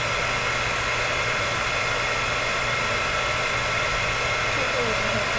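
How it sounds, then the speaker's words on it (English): A steady, loud rushing roar of a heat gun blowing hot air, continuous and unchanging throughout. "we're going to grab our heat gun here, and I'm going to let it warm up for a second"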